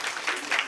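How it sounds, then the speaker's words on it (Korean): A short, faint burst of clapping from a group swells and fades over a fraction of a second. "오, 박수 박수."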